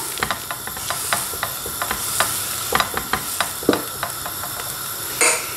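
Crêpe batter made with cocoa cooks in a hot pan, a steady gentle sizzle and hiss with scattered light taps and scrapes, close, ending in a brief louder burst of frying.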